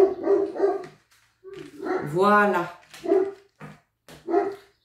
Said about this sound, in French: pour le chien encore que vous entendez